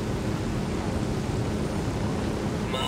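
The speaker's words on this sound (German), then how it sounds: "Macht ja gar keinen Krach, so ein Helikopter" A helicopter in the video game Ghost Recon Wildlands gives off a loud, constant rotor and engine roar, close and unchanging, with a brief shift in tone right at the end.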